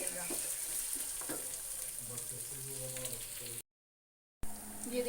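Minced meat keema frying in a pan for keema matar, a steady close sizzle with soft scraping, broken by a brief gap of silence before the sizzle resumes.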